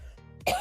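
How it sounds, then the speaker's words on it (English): A person gives a single short throaty cough, close and fairly loud, after a moment of quiet breathing. "I coughed and that's tearing me up"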